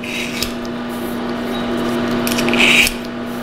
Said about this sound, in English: So now we're going to take this off and take this burr off real quick.